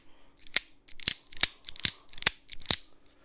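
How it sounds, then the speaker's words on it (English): Demko AD 20.5 Slicer folding knife with 20CV blade and Ultem scales clicking through its action close to the microphone, six sharp, bright clicks in a steady rhythm with short gaps between them, no talking. "I also just like the sounds that this makes. Take a listen again. I'm going to move the knife up by the microphone."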